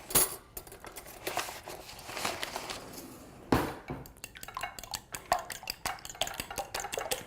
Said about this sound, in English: I'll use a fork to just whisk the eggs.